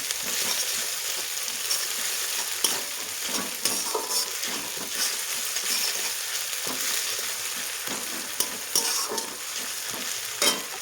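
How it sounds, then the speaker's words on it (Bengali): Spices fry in a pan for a raw jackfruit and meat curry, a steady hiss under repeated scraping strokes of a spoon being stirred. The sound is close and continuous, with no talking. "ভালোভাবে একটু নাড়াচাড়া করে নেব"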